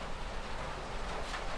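Rain falls steadily as a dense, even hiss with a low rumble beneath it, continuous and fairly soft throughout.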